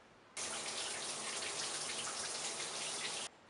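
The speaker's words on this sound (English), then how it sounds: "When you're taking a shower." Shower water runs in a steady, dense hiss that starts abruptly, holds evenly for about three seconds, then cuts off.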